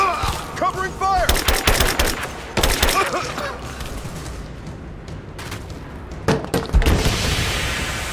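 Bursts of automatic gunfire and single shots crack through a firefight in Rise of the Tomb Raider, loud and dense at first, then thinning into scattered reports with shouting voices mixed in.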